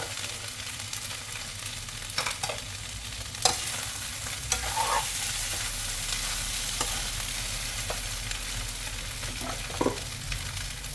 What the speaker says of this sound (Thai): แล้วเราก็เอากุ้งใส่ลงไปนะคะ